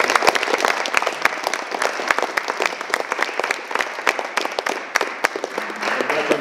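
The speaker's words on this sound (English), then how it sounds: "Let's give them one more round of applause." Loud, sustained applause from a school audience for Year 7 and 9 pupils after their play, dense clapping continuing steadily throughout with no talking.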